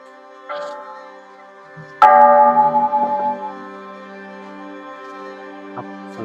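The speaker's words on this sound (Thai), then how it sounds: "ก็คือจะมีระฆังใหญ่หนึ่งระฆัง แล้วก็ระฆังได้อีกแปดระฆังนะครับ" Bells ring at a Thai Buddhist temple, a large bell among a set of eight: a soft strike first, then a loud clang with long sustained ringing overtones that slowly fade, and a faint further tap near the end.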